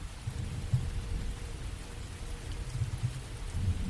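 Steady rain falls at night as a soft, continuous hiss with a low, rumbling undertone, even and unbroken throughout, with no voices.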